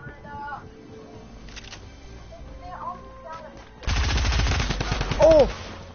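Gunfire in a Fortnite-style video game, including a drum gun, crackles in a dense rapid burst over the last two seconds, after quieter game effects, with voices talking throughout.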